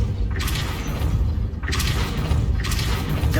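The Depulso force spell is cast in the Hogwarts Legacy video game, producing loud, heavy booming blasts that come in about three surges with a rumbling low end and a crackling wash.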